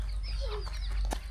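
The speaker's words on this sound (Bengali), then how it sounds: "মুরগির ছানা নাও।" Chicken chicks on a village road after rain give a few short, high chirps over a steady low rumble, close and moderately loud.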